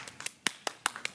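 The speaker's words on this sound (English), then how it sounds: "Let's give her a round of applause." A small classroom audience at a school debate gives a short round of applause, about seven sharp, scattered claps in just over a second, fairly quiet and thin rather than a full ovation.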